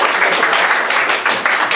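Applause in a classroom during a teaching performance assessment, a steady patter of clapping filling the whole short moment at close range.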